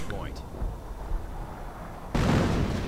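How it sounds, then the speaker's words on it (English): A howitzer fires in a World War II strategy video game, a single sharp artillery boom that follows a quieter stretch and is left ringing out. "And the howitzer fires away."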